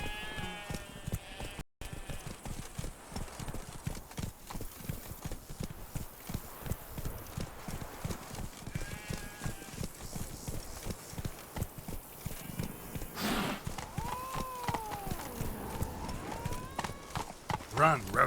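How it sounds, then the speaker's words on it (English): Horse galloping in The Witcher 3, rapid rhythmic hoofbeats pounding throughout with a horse snort or whinny, mixed with game ambience and other animal calls while characters speak over it. "Run, Roach."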